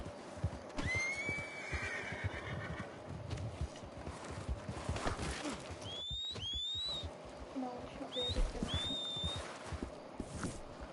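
A horse in a video game whinnies, followed by rapid hoofbeats and clip-clop, with sharp rising whistle-like calls overlapping in the middle and end.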